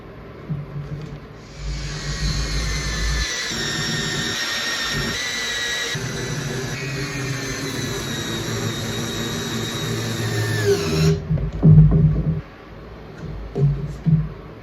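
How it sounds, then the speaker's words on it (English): Angle grinder with a flat disc grinding off screws poking through a wooden Boler trailer dinette panel, a loud high whine sustained for about ten seconds before winding down, followed by a few knocks and handling sounds. "I'll be just using a flat disc probably just to grind them"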